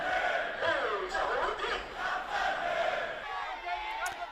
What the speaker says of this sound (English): Players, coaches, and other team members were welcomed by cheering crowds.